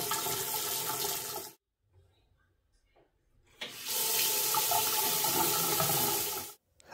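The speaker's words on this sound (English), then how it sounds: "Okay, so we got running water." Water gushes from a newly installed bathroom vanity faucet in two strong bursts, with a brief quiet gap between them, close and steady.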